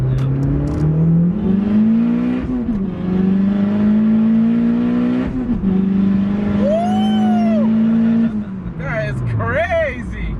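A 350 hp turbocharged ninth-generation Honda Civic Si engine pulls hard through second gear, its tone climbing steadily, with a brief turbo whistle and a shift near the end; someone speaks briefly.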